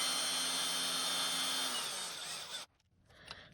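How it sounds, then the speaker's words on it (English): A power drill driving a screw into an RC car body mount whirs steadily at close range for over two seconds, then cuts off, leaving a quieter room with faint handling noises. "using your drill here, you're going to take this piece and basically start to feed it through there"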